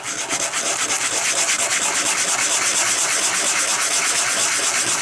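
A coarse 60/80-grit sanding block is rubbed back and forth over wood, giving a continuous, close, loud scratchy rasp with an even rhythm and no pauses.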